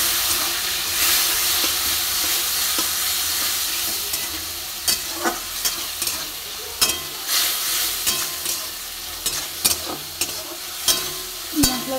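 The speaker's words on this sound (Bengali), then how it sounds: "দিয়ে ভালো করে ভাজবো" Masala paste fries in a pan with a steady loud sizzle that eases off, followed by intermittent stirring scrapes and taps toward the end.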